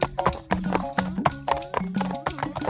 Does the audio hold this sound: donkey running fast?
yes